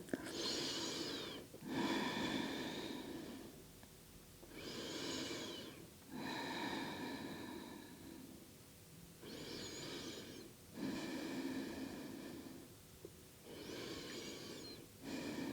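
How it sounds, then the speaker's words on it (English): Slow, deep breathing during a hip-opening yoga stretch: long airy inhales and exhales alternate in an even rhythm, about four full cycles, heard close and fairly soft with no talking. "Take deep breath. Wherever you feel the stretch most, just try to send your breath there."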